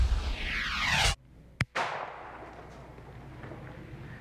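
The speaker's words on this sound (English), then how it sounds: "This is a vintage Liberator pistol." A vintage Liberator pistol fires a sharp report that rings and decays, followed by a short silence, then a second sharp crack with a lingering tail, loud and close.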